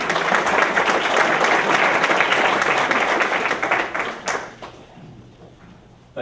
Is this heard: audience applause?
yes